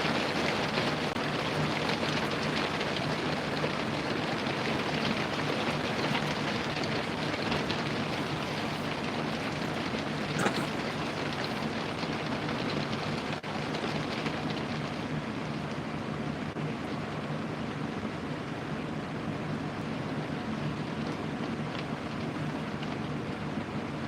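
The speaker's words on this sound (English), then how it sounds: "This is kind of weird seeing the rain." Steady rainfall pours continuously and evenly for the whole stretch, a dense close hiss with no talking and only faint occasional ticks.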